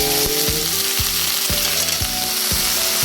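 Chopped banana blossom sizzling steadily in a hot pan, a constant bright frying hiss with repeated light scraping knocks as it is stirred, close and with no talk.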